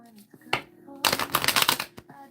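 Tarot-style soul cards being shuffled by hand: a short riffle burst, then a longer rapid flurry of crisp card riffles up close, with speech in the background around them.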